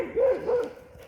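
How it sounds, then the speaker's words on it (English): Dog barking in the woods, a couple of quick close barks standing out over quiet surroundings. "Barky dog's ahead."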